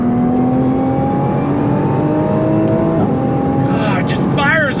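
A Nissan GTR accelerating hard in first gear, its loud engine note climbing steadily in pitch over several seconds before a quick shift, heard from inside the car with a voice briefly over the end.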